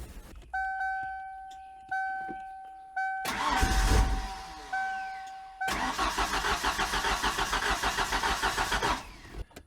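A chime sounds several times before a 1994 Ford Ranger engine turns over as the key is turned, cranking in two loud rhythmic bursts separated by a pause.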